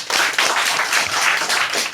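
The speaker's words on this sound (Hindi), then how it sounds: "इनके प्रोत्साहन के लिए इनके लिए ताली बजा दें" Students in a classroom clapping together, a dense, steady round of applause that fills the room at close range and stays loud throughout, without speech.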